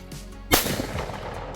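Single loud blast from a Browning A5 shotgun fired outdoors, a sharp crack followed by a rolling echo that fades over the next second.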